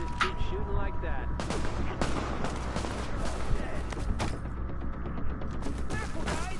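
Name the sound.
gunfire in the video game The Division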